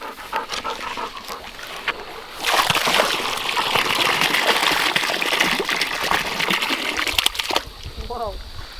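Water pours from a bucket into a creek, a rushing, splashing gush that starts suddenly and runs steadily for about five seconds before cutting off, with quieter outdoor sounds before and after.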